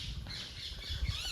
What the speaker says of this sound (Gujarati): જો પોપટ બોલે છે ઉપર